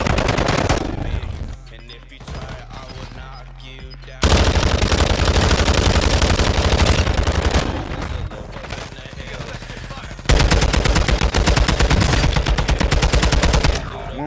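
Heavy automatic gunfire from Warzone 2.0, the multiplayer first-person shooter, comes in long loud sustained bursts with a brief quieter lull between them, close and dense, with some game noise underneath.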